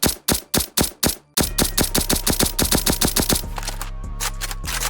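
Assault rifle in the Bad Business video game firing semi-automatic, a run of loud, sharp shots in quick, slightly uneven succession, closely spaced and up close, with a steady low hum underneath the later shots.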